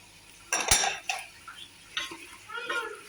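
Garlic, tomatoes and peppers being sautéed in a pot for chicken maqluba, a few clanks of a utensil against metal and soft stirring scrapes in short bursts.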